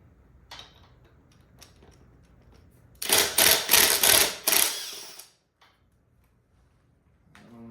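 Screws backing out of motorcycle hardware under a powered driver bit during a rear brake install on a Janus Halcyon 250, heard as a loud burst of several rapid whirring, rattling spurts lasting about two seconds between quiet pauses.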